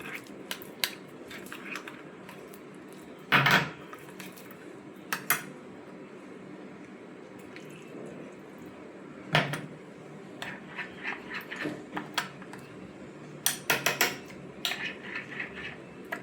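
A spoon clinks now and then against a container while detox powder is mixed into water, the sparse metallic taps spread over a quiet background.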